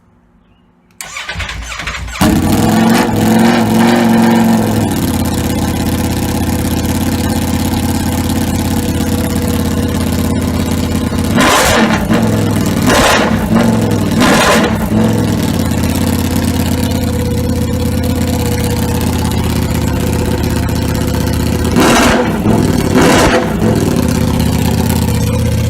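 A Ducati Panigale V4 motorcycle engine fires up and settles into a loud, steady idle close by, with several sharp revs climbing toward about 4000 RPM in two groups.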